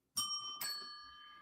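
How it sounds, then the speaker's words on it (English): A novelty "That's What She Said" bell on a morning radio show gives two bright, ringing strikes about half a second apart, the second tone sustaining and slowly fading on its own. "the bell is our "That's What She Said" bell"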